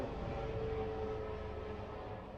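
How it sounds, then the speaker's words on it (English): A plane or helicopter passes overhead as a steady, fairly faint low drone with a slight tonal hum, gradually fading, no talking. "There's a plane or a helicopter."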